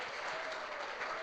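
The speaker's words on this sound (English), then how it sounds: "Can we give Simon a quick round of applause" An audience at a client forum applauding, a brief dense patter of many hands clapping together, steady and moderately distant.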